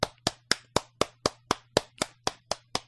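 Applause rendered as a steady run of about twelve sharp, evenly spaced claps, close and loud, like a single pair of hands clapping in congratulation at a lecture, with no voices.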